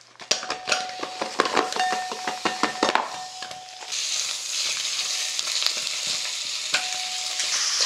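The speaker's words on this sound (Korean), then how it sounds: "차돌박이 이렇게 볶아줘요" Chadolbaki, thin-sliced beef brisket, stir-frying in a pan: quick clinks and scrapes of a utensil against the pan come first, then a loud, steady sizzle rises and holds up close, with no talking.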